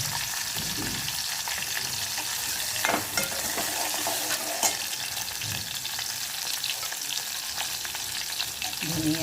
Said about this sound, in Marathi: कांदे टाकले, टमाटर टाकले, थोडं तेजपान टाकलं आणि अद्रक संबाराचा पेस्ट टाकते.